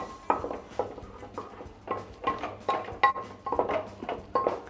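A spoon scrapes and clinks against a pan over a medium gas flame as spices and Kashmiri red chili are stirred for chole masala, irregular metallic taps and scrapes repeating close up, with no talking.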